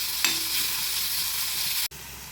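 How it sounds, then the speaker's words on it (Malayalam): Shallots and green chillies frying in hot oil in a pan while being stirred, a loud steady close sizzle with a brief scrape, then a short break before the sizzling resumes. "ഇതിലേക്ക് ചെറിയുള്ളി, പച്ചമുളക് എന്നിവ ഇട്ട് കൊടുക്കുക. ഉള്ളി മൂത്ത് വരുന്നത് വരെ ഇളക്കി കൊടുക്കുക."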